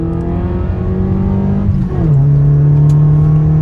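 A Hyundai Coupé engine revs loudly close by, a steady drone that dips briefly and then settles into a higher, sustained tone, with no voices.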